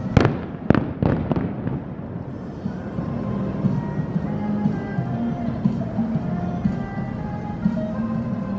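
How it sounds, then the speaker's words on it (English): Fireworks testing over Disney's Magic Kingdom near midnight, seen from the Contemporary Resort: several sharp, loud bangs crack in quick succession at the start, then a long rumbling, crackling wash of distant bursts rolls on steadily. "It was so great to see fireworks above Magic Kingdom."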